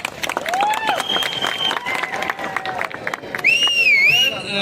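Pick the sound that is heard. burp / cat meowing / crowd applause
crowd applause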